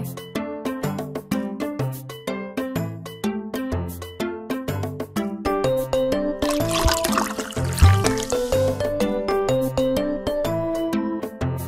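Water pours over a cheerful melody in a puppy-care kids' game as a puppy is showered, a steady splashing stream rising midway and running for several seconds under the music.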